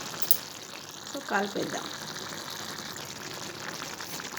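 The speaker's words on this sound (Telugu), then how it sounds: "చూడండి మంచిగా ఉడుకుతుంది" Tomatoes simmer in a pot with a steady bubbling hiss across the whole stretch, joined by a brief stir, while a person speaks over it.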